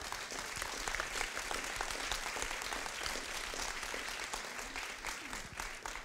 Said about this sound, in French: on va les applaudir un instant